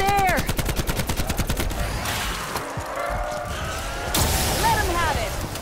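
Sustained gunfire at a zombie in Black Ops 4 zombies mode: a fast, loud burst of close shots at the start, then scattered impacts, game effects and another flurry of firing toward the end.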